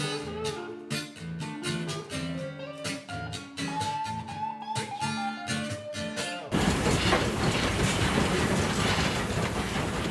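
The Mary Valley Rattler heritage train rumbles along the rails, a dense steady roar with rhythmic clatter, preceded by several seconds of music before the noise takes over.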